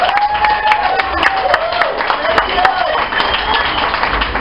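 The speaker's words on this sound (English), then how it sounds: "Let's give a big hand up, big round of applause to our veterans" An audience at an open meeting in a cantina applauds veterans, with steady crowd clapping throughout and a voice or tone sliding beneath it.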